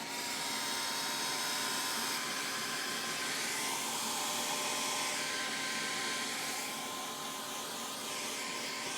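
A hair dryer blows steadily and loudly, drying sandcarving resist on a stone piece, a continuous broadband whoosh that holds unbroken from start to finish with no one speaking.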